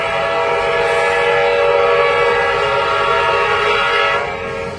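A short train passes close by with a loud, sustained horn blaring steadily over the rumble of the cars before it fades slightly at the end.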